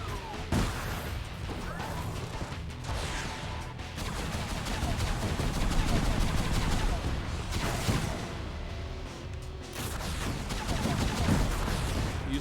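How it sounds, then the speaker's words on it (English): Heavy, continuous gunfire and crashing explosions from the SpyHunter 2 video game, dense and loud throughout with bursts that rise and fall, and a player talking over it. "I have to lay down so much firepower that I can't see if he's shooting at me"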